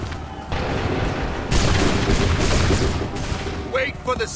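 Musket volleys from Assassin's Creed III fire on command: a loud crackling fusillade breaks out, then a second heavier burst of massed shots rolls on for a couple of seconds before tapering off.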